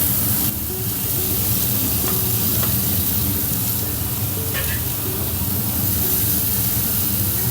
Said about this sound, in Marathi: तवा तापलाय आणि मिरची आणि लसूण आहे तो असं सोड टाकायचं तेल थोडस टाकलं आहे